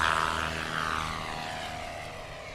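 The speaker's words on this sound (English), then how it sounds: "Sub 125 on that takeoff for Hal Stockman." A STOL competition airplane at Patriot Airpark in Pocola, Oklahoma, revs its propeller engine during a short takeoff, a loud, steady, buzzing drone that eases slightly as it pulls away.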